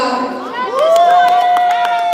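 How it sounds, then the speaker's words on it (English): A crowd at a Tekken 8 esports championship cheers and claps for a player, with loud whoops and scattered clapping rising after an announcer's voice, continuing steadily to the end. "A round of applause for Maria, for Maya, the destroyer"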